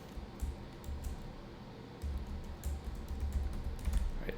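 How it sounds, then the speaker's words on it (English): Someone types a name on a computer keyboard with quiet, irregular key clicks, a short burst, a pause, then a steadier run of taps, close and soft, with no talking. "I could type his name"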